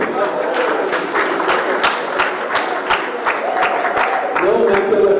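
A crowd claps at a Nigerian political rally where presidential candidates speak, steady rhythmic applause running throughout with crowd murmur, voices rising near the end.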